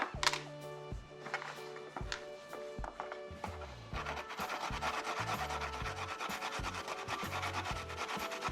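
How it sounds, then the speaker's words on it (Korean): Ginger being grated on a hand grater, a steady rhythmic rasping of short repeated strokes that runs close and clear with no talk over it. "생강은 강판에 갈아 즙을 만들어 주세요."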